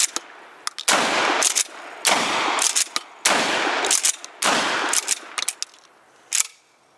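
An Akkar Churchill Shockwave shotgun fires five loud, close blasts at a target, about one every second, with sharp clicks of the action cycling between shots.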